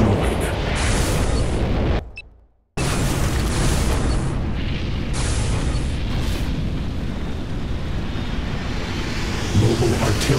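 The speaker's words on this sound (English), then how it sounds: "GI weapons factory destroyed." Weapons factory blowing up in Renegade X, a sustained roaring explosion that cuts to a brief silence, then continues as a heavy, rumbling blast that slowly fades.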